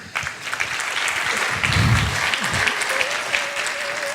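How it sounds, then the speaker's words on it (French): Audience applauding at a conference round table event, a sustained wash of clapping from a crowd filling the room, steady throughout with a brief swell in the middle. "Je vous demande de l'applaudir"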